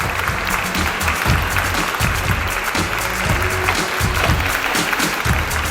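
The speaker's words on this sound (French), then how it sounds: "un tonnerre d'applaudissements pour notre Miss Pet Shop 2016" An audience claps thunderously for the winner of a Miss Pet Shop 2016 pageant, with dense, loud applause that keeps going without a break and only faint crowd murmur beneath.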